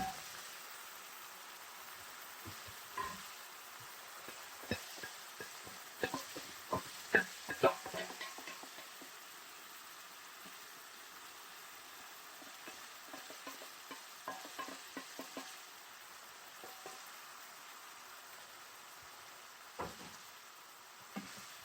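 Italian sausages browning in a pan with a soft, continuous sizzle, broken by scattered pops and the scrape of stirring, heard close and fairly quiet.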